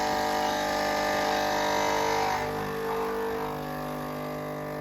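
A Nuova Simonelli Oscar II espresso machine pulls a double shot with a steady, close, loud vibrating pump buzz that eases slightly about halfway through and then continues at a lower level.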